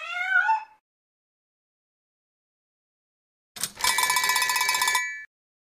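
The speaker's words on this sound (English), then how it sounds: "To whom does this sound belong? A cat." A single short cat meow, then a pause and a bright, ringing metallic chime that sustains about a second and a half.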